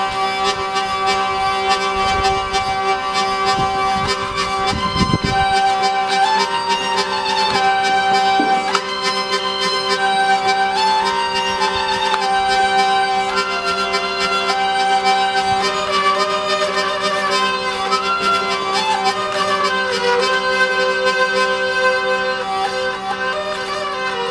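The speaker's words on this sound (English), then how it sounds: "There's also the trumpet effect, which is actually a bowing technique that makes a little bridge vibrate" Hurdy-gurdy played with the trumpet effect, its rotary wheel bowing the strings so a small buzzing bridge rattles; a steady loud droning tone with a gritty rhythmic buzz runs continuously under a moving melody.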